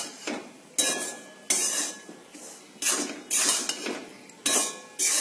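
A metal utensil stirs soaked rice flour dough with salt in a pan, making a rhythmic series of clinking, scraping strokes, each a sharp knock that fades, close and alone without voices.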